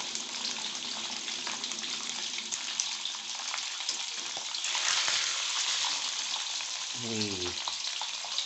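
Steady broadband sizzle of frying in hot oil, continuous crackling and hiss throughout, close up, with a brief low knock near the end.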